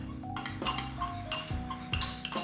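Soy sauce being mixed with crushed garlic, sesame oil and fish sauce for an Asian-style fish dish: close, soft clinks and scrapes of a utensil against a dish, with a few louder taps, continuous and without talk.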